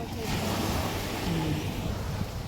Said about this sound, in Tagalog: Kinagwapuhan na gid ni nga dagat ka duol ra man gyud.